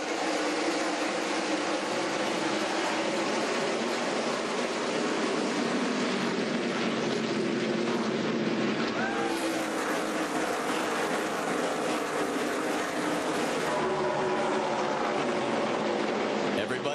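NASCAR Nationwide Series stock cars take the green flag for the 2009 U.S. Cellular 250 at Iowa, a dense, steady engine roar filling the whole stretch with a surge partway through, with speech faintly beneath.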